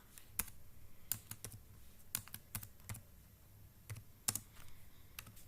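Typing a bill number on a computer keyboard during accounting entry, a sparse series of crisp, close key clicks in irregular bursts with short gaps over quiet background.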